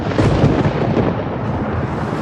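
A loud, continuous rumble of thunder rolls on without break, deep and heavy, with no other sounds standing out.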